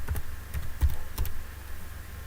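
Keys clatter on a computer keyboard in short bursts of a few quick taps, with brief pauses between them, close and fairly crisp.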